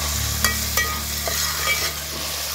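Onion frying on a wood-fired village stove while being stirred, a steady close sizzle punctuated by a few distinct scraping knocks of the spoon against the pan.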